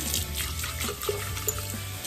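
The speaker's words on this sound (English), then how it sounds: "I will generally like pour cold water again." Cold tap water runs and pours steadily into a sink or vessel, a continuous close trickling wash with a few small splashes.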